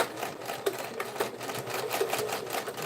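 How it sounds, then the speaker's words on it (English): A sewing machine edge stitching a tote bag pocket, a soft steady run of rapid needle clatter at close range, fairly quiet and continuous, with no voices. "I'm edge stitching the pocket"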